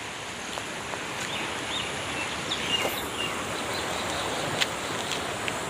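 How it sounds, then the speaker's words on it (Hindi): Steady broadband rush of a rain-swollen village river in flood after one to two hours of heavy rain, carrying large logs, continuous and fairly loud with no voices, a few faint bird calls above. "ये तो देखो पूरा खतरनाक पानी है।"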